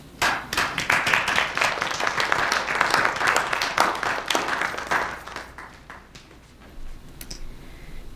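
An audience at a panel discussion on racial slavery applauds the panelists, a dense burst of clapping that gradually tapers off into a few scattered claps with no talk.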